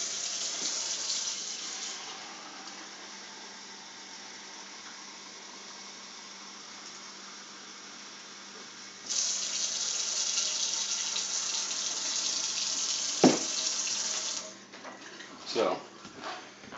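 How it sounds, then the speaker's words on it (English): Cold tap water runs steadily into a bowl of flour, a continuous close hiss that grows louder midway before stopping, with a few knocks and clinks at the end. "I'm going to add 2 cups of water to it, just cold water"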